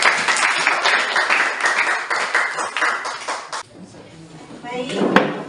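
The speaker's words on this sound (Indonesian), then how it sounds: "Berikan tepuk tangan dulu." Classroom audience breaking into applause during a school teaching-practice lesson, dense clapping filling the room for a few seconds before stopping abruptly, followed by quieter room sounds.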